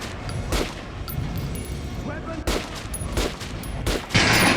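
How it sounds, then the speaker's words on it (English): Rapid gunfire in Metro Last Light as training dummies are shot at a firing range, with several loud bursts of shots over a steady background, the last burst the strongest. "Try shooting for the center of the regular dummy's chest."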